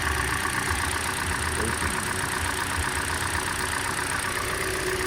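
A Hyundai Elantra engine idles steadily and evenly with the AC on max, a constant droning rumble with no changes in pace.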